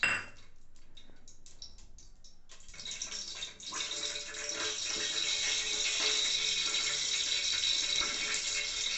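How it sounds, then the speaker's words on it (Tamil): Oil and then ghee poured into a pan for mushroom dum biryani give a steady liquid pour and faint sizzle that swells from quiet to a fuller, continuous hiss after the first few seconds, with no talk. "முதல்ல ஆயில் ஊற்றிக்கலாம். அப்புறம் நெய் ஊற்றிக்கிறோம்."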